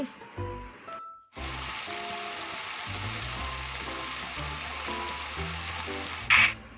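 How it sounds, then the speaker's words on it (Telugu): Tomato pieces fry in a pan for an egg and okra curry, giving a steady, close sizzle with crackling throughout, briefly dipping near the start and flaring louder just before the end. "టమాటా ముక్కలు అయితే మంచిగా ఫ్రై అయినాయండి"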